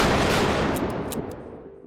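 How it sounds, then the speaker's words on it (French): Gunfire in a Joker film scene: a loud, dense burst of shots with sharp reports that fade into a decaying echo, heard alone without speech. "mais 3 coups de feu."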